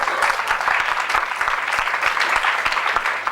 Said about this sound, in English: You can give yourself a round of applause now.